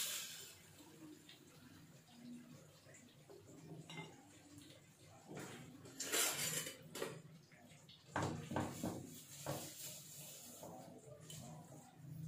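A spoon scrapes and clinks against a pan as chatpata homemade chicken tikka is scooped out with the flame off, the soft metallic knocks and scrapes coming in short bursts over a quiet kitchen background.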